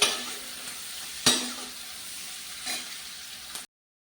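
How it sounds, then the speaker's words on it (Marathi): Onion sautés in a pan until lightly reddened, giving a steady close hiss of frying punctuated by two sharp spatula knocks against the pan, before cutting off abruptly. "पहिला हा कांदा आहे तो चांगला आपण लाल थोडासा शिजेपर्यंत परतून घेणार आहोत."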